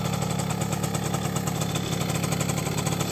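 An all-original 1973 Suzuki RV90 VanVan 90cc two-stroke motorcycle ticks over at idle nearby, its fast, even popping beat holding steady throughout.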